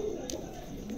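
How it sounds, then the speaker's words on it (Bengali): A pair of medium-sized Bokhara pigeons give a soft, low coo, brief and fairly quiet, heard close by over faint room noise. "দেখেন চমৎকার কবুতর দুটা"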